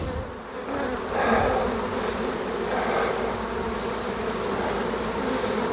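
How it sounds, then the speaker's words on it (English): Honey bees swarm thickly at the front of a hive being moved into an Apimaye nucleus hive, a dense, steady buzzing drone that swells slightly in places, close and continuous with no talking. "there's just an awful lot of bees"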